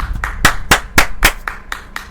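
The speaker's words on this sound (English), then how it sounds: "Clap it up for that." A single person claps hands about eight times in a slow, even rhythm, each clap loud, sharp and close.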